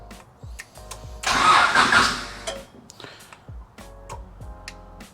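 A 1992 Honda Civic VX with an HKS exhaust cranks and fires up, a short burst of starter and engine roar that settles into a rough idle amid clicks and workshop noise.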